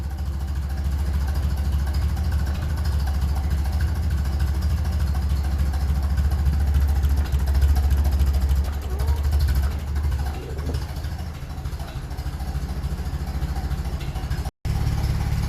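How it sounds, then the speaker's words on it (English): A 1957 Ferguson 35 tractor with a TVO engine idles at a very low tick over, a steady close, loud low chugging rumble that runs on without a break and drops away for an instant near the end. "Jeez, that's low. That's a low tick over."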